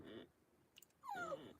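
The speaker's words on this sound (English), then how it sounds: "I apologize for my dog crying." A pet dog whimpers for treats indoors, a short low whine followed by a brief yip and then a longer high, wavering cry that slides downward, faint and close with quiet pauses between.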